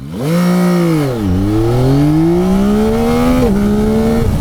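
A 2024 Yamaha XSR900 GP motorcycle accelerating hard in first gear, its engine close and loud, the revs dipping briefly before climbing steadily in a rising wail, then a quick shift with pitch continuing upward.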